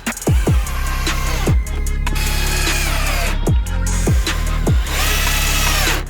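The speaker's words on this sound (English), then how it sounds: "that's the last screws going in for the floor there, so that's all pinned" A power drill drives screws into the floor of a new studio build, with loud whirring runs broken by sharp pitch drops as each screw seats, several bursts in a row up close and no talking.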